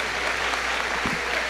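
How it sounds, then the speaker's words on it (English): A crowd claps at a 2022 high school graduation ceremony, giving a brief, steady burst of applause that carries at an even level from start to finish. "One more round of applause for our senior scholars and their speeches."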